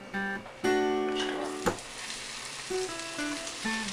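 Battered fish dropped into hot oil for fish and chips sizzles and crackles steadily, with a brief clatter as it goes into the fryer basket.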